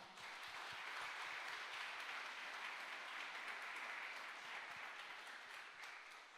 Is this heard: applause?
yes